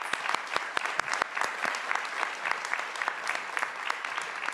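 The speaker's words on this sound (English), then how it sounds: "Let's have a round of applause for our 2021 graduates." An audience applauds healthcare graduates at a college pinning ceremony, with sparse, distinct claps close by over a continuous bed of clapping from the crowd.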